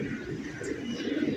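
A male pigeon coos steadily close by in a loft, a soft low murmur running through the whole moment with faint background noise and no clear talk.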